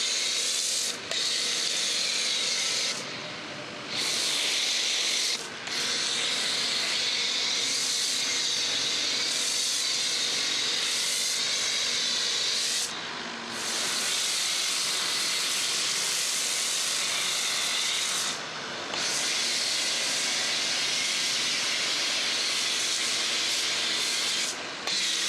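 Pink cleaning foam sprays onto an old toilet in steady, hissing bursts, loud and close, broken by a few brief pauses between sprays.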